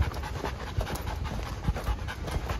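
A tired Dogo Argentino panting in hot weather, with quick, rhythmic breaths heard close by and at moderate volume, with no voices.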